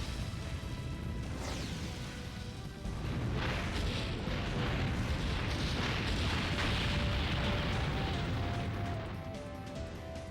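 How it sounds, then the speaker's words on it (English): An explosion in the Legend of Dragoon video game, a loud sustained booming blast with crackling debris that swells after a couple of seconds and rolls on for several more before fading slightly. "Explosion!"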